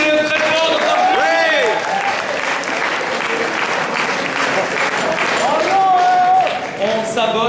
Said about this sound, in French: Applaudissez-le très fort.